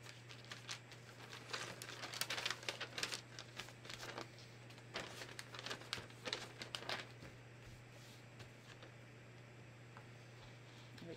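Paper sewing pattern for a tee being folded along a crop line, with faint, close crinkles and soft taps in irregular bursts over a steady low hum, without any speech.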